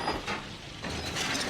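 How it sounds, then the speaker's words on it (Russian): A second lever in the Sherlock Holmes: Crimes and Punishments video game works a passage mechanism, giving a close ratcheting, gear-like grind that dips briefly midway and then resumes, with no voices. "Второй рычаг Ватсону назад выйти"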